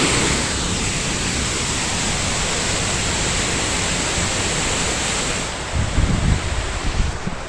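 Steady roaring rush of a waterfall along a Rocky Mountain trail, loud and unbroken, with a few low thumps near the end.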